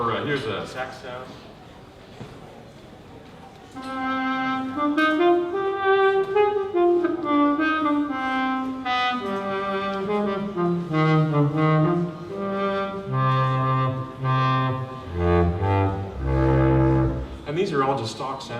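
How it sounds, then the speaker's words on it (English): A saxophone synth sound from Logic Pro X, played on a LinnStrument controller, plays a winding melodic line with gliding pitch, starting after a short quiet moment and ending on low, breathy notes. "Or here's a sax sound."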